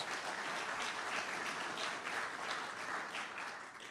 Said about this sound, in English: And that's worthy of applause.